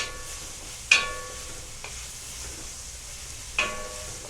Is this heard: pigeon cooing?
no